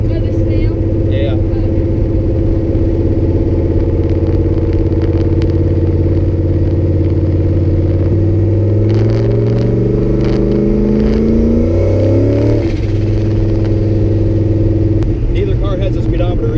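A turbocharged Buick's engine drones loudly inside the car, its pitch climbing as it revs through a gear, then dropping back to a steady hum.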